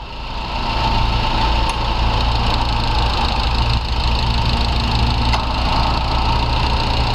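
Suzuki Grand Vitara 2.0 engine idling steadily and continuously, switching over from petrol injection to LPG, with a dense, even mechanical hum and a couple of faint clicks.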